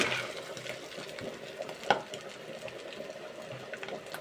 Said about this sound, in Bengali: আজকে আমি অসাধারণ বেহেস্তের খাবার এই মাছের কলিজা ভুনাটা রান্না করতেছি